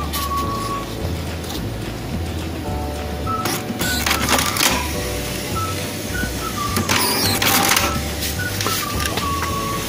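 A Canon IP2770 inkjet printer switches on and runs its startup cycle, with motor whirs, short rising servo tones and mechanical clicks and clatters over a low steady hum, close and fairly loud.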